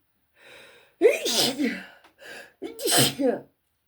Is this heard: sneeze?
yes